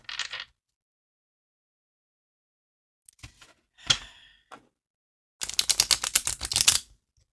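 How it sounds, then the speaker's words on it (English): Fantastical Creatures tarot cards being shuffled, heard as a short papery burst, a few scattered taps and flicks, then a dense rapid riffle of cards, close and fairly quiet, with no talking. "and let's get to shuffling."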